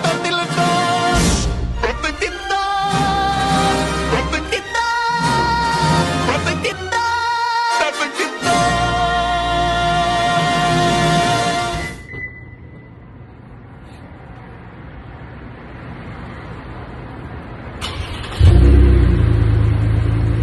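Lexus ES350 with a muffler mod revving hard in repeated bursts, loud and close, then settling into a lower idle rumble before a final sharp blip.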